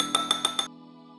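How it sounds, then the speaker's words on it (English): A small whisk clinks four times against a glass bowl while stirring thick powdered sugar icing, with evenly spaced bright taps followed by a quiet hum, with no talking. "A little whisk."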